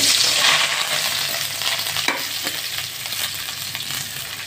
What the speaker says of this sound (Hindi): इसे फ्राई कर रही हूँ ऑयल डालकर